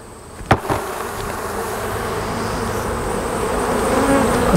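Honeybees are shaken into a container for a sugar-shake mite count, giving a steady, dense buzz of many bees after a sharp knock from the shake, growing slightly louder toward the end.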